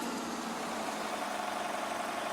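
A Cessna Citation C525 jet engine held at idle, a steady, even hum with a high whining hiss, without change throughout.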